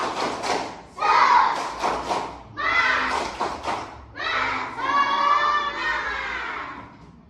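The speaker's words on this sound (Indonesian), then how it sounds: "Coba ibu mau tes. Tepuk semangat." Primary school children in an Indonesian class perform the tepuk semangat chant, with several loud group bursts of chanted voices and sharp claps separated by short pauses.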